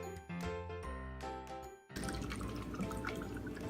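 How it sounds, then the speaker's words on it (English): Room temperature water is poured into cups, opening with clinking and tinkling of the cups before a steady, close splashing pour that runs to the end. "here we have room temperature water that we're going to pour into these cups"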